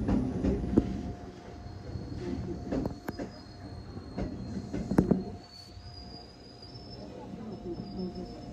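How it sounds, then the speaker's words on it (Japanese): A Senseki-Tohoku Line train rolls into Rikuzen-Ono Station with rumbling wheels and sharp metallic squeals as it slows to a stop, while insects chirp steadily in the background. "上り列車到着です。"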